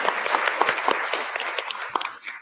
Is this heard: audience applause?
yes